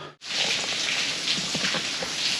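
Rain falling steadily in the Philippines, a dense close hiss of drops on the ground and surfaces after a brief cut, with faint tapping and patter throughout.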